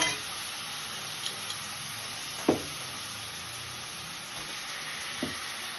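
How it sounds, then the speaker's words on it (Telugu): Dried shrimp and brinjal pieces fry in a pan with a steady, close sizzling hiss, broken by a few soft clinks and bumps as the pieces settle. "మనం క్లీన్ చేసి కడిగి పెట్టుకున్న ఎండ్రాయిల్ అందులో వేసేసి తర్వాత వంకాయ ముక్కలు కట్ చేసి పెట్టుకున్న వంకాయ ముక్కలు కూడా అందులో వేసుకోవాలి"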